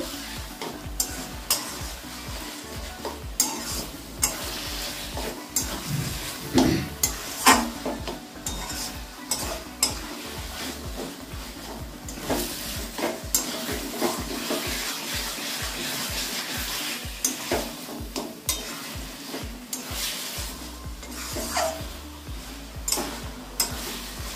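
Taro leaf kochu shak being stirred in a pan, a steady frying sizzle with repeated scraping strokes of the spatula throughout, close and busy, no talking.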